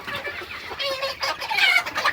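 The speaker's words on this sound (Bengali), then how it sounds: "এদিকে মুরগিটা এখন বড় হয়েছে না" Close clucking from grown broiler chickens in a dusty farm shed, a busy overlapping chorus of calls that grows louder toward the end.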